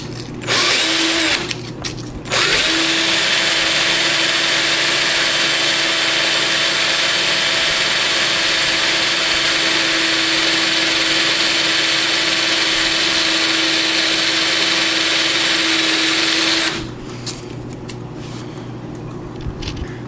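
A power tool whirs in a long, steady high whine while polishing the rod of a handmade fire piston, starting after a couple of short bursts and stopping abruptly near the end, loud and close.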